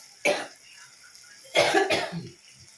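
Two coughs, one short and then a longer double cough a second later, close and clear with quiet in between.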